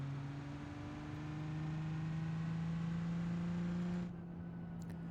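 A Cummins diesel-swapped Ford Galaxie in the BeamNG driving game pulls hard under acceleration, its steady engine drone rising slowly in pitch for about four seconds before cutting off as the throttle lifts, with no voices over it.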